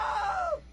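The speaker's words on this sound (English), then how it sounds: "Now that was a great scream." A video game character lets out a single drawn-out scream, sliding downward in pitch as they slip into a table saw, loud and close, then trailing off into quiet.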